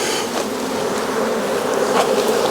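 Honeybees swarming around a beehive super being fitted, a dense continuous buzz close up, steady and loud with slight swells as individual bees pass near.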